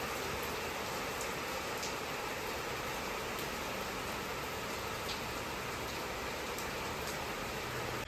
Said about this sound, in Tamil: வெளியே பார்த்திங்கன்னா சரியான மழை பெஞ்சிக்கிட்டே இருக்குது